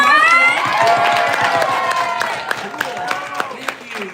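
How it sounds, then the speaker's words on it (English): A live audience at a troupe show cheers and shouts, with children's voices prominent, then breaks into scattered clapping as the excited yelling fades. "Can you get a round of applause"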